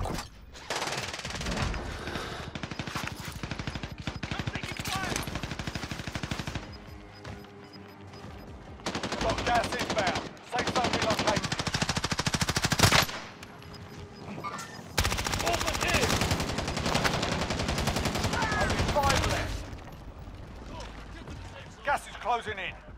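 Gunfire in the video game Call of Duty Modern Warfare, bursts of rapid shots in several loud clusters separated by short quieter gaps, with voices calling out over the combat.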